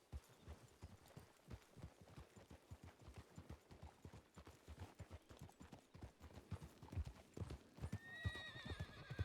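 Horse hooves clip-clop steadily and close in Red Dead Redemption 2, with a brisk, even rhythm that runs throughout, ending with a short whinny.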